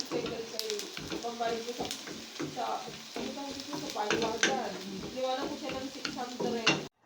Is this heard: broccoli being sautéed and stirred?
yes